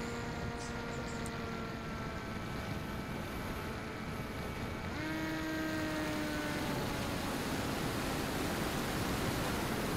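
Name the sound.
Cyclops Tornado RC plane motor with throttle fluctuating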